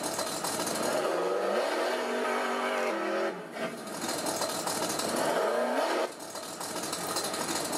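An RC car's simulated engine sound module revs up and down twice, rising to a high-pitched roar and then dropping back, loud and close with no talking.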